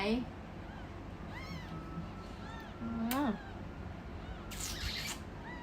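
A cat gives a few short, rising and falling meows spaced across a few seconds, fairly faint and close in a quiet indoor setting.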